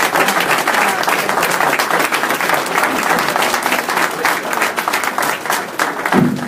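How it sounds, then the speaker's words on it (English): An audience applauds Mayor Warren at a civic policy event, dense sustained clapping from a sizeable crowd, loud and continuous for several seconds, ending with a brief voice at the close. "Round of applause for Mayor Warren."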